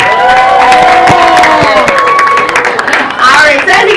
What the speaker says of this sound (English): Let's give our mammologist another round of applause.